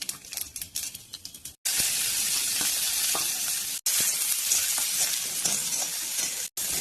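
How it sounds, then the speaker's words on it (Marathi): Onion drops into hot oil with cumin in a kadhai, setting off a loud, dense sizzle that keeps going steadily with brief breaks, after a quieter stretch of softer crackling at the start, and no voices. "मग कांदा टाकत आहे."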